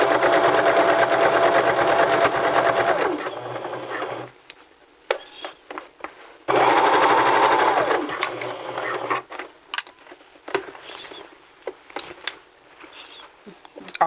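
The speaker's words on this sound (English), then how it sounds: "Continue sewing." Sewing machine stitching through four layers of fabric in two loud, close bursts of rapid needle clatter, separated by quiet pauses with small clicks and handling noises.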